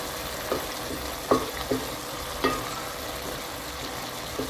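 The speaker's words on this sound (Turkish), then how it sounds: "Şöyle güzelce dağıtıyoruz pirincimizi." Rice being spread out in a cooking pot for a chicken and vegetable pilaf, giving a soft steady sizzle broken by a few light scraping stirs, close and fairly quiet with no voices.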